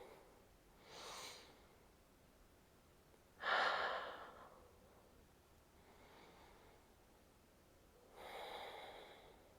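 Slow deep breaths during a yoga pose, three soft airy exhalations and inhalations spaced a few seconds apart, close and quiet in a still room.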